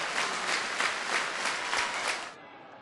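A football stadium crowd at a Viking versus Brann testimonial match applauds a shot that sails over the goal, a dense sustained clapping that fades out toward the end.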